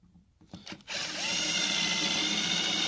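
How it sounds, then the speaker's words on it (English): Power drill boring into a hard drive platter: a few handling knocks, then the drill spins up into a steady, loud, high whining grind that holds to the end. "And now take yourself a drill."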